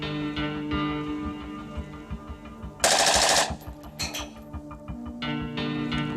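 An Austrian-made assault rifle fires a loud, sustained burst of several rapid shots in the middle, set against a steady low hum and rhythmic background music.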